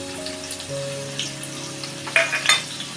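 Chopped onion drops into hot oil with cumin, and a steady frying hiss rises with bright crackles near the end, close up, over a faint background hum, with no voices.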